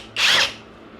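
A Seesii 3-in-1 power tool whirs in a single short, loud burst of about a quarter second, then cuts out abruptly and leaves quiet background.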